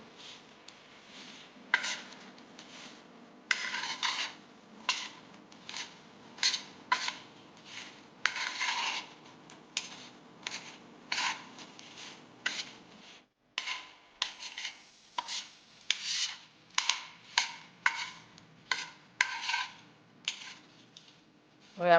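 Chili pickle is stirred and mixed in a dish with a steady run of short scraping, rubbing strokes in an irregular rhythm. The mixing is close and fairly quiet, with no talk over it.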